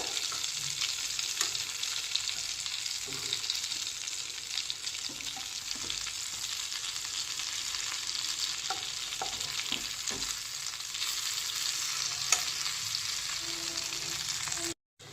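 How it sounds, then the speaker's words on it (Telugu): Bitter gourd slices fry in a pan and are slowly turned over, giving a steady close sizzle with faint clinks of a spatula, continuous and fairly quiet throughout. "మన కాకరకాయలు బాగా ఫ్రై అయ్యాయి ఇప్పుడు అన్నిటిని రివర్స్ చేసేసుకుందాం స్లోగా"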